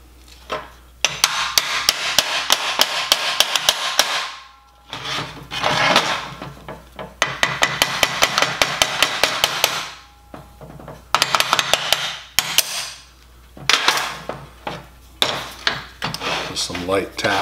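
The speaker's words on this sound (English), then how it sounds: "Some light taps to get that to fall into place." Light hammer taps seat a metal support into a Certiflat weld positioner during assembly, with rapid bursts of ringing metallic strikes in several clusters over a steady low hum, and a voice speaking in the gaps.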